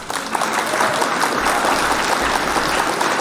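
A live news show audience breaks into sustained, loud, dense clapping for a director, continuous throughout with a low rumble of crowd noise beneath.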